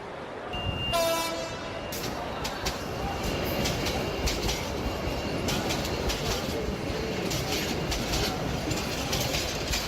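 A train sounds a short horn blast near the start, then rolls on with a constant rumble and clickety-clack of carriages, close and loud for the whole stretch.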